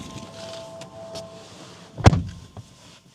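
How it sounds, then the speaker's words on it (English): A 2024 Acura Integra A-Spec door swings shut with a single solid thump, preceded by faint rustles and quiet cabin noise, followed by a small settling knock. "The sound of all the body panels closing, the hood closing, the door closing,"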